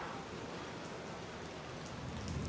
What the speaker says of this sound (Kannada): ನೋಡ್ರಿಪ್ಪ ಮಳೆ ಬರತ್ತದ.